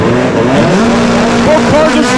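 Honda Civic with VTEC and a VW Beetle drag racing at the IDRC Palmdale strip, loud engines howling and shifting up in pitch over a steady roar, with a commentator talking over the noise.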